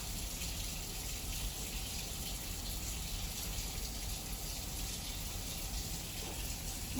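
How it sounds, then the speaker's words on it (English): Tap water runs steadily while soap is rinsed off hands during a hand hygiene routine, a faint, continuous gushing stream with no voices. "Now, I'm going to rinse the soap off my hands"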